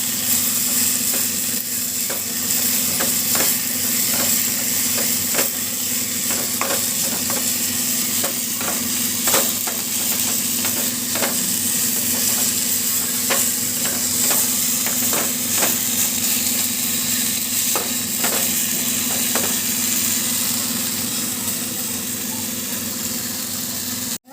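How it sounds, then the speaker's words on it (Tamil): Mudakathan leaves sautéing in a pan, a constant close sizzle with scattered stirring scrapes and taps and a steady low hum underneath, no voices. "கீரை நல்லா வதங்கிடுச்சுங்க."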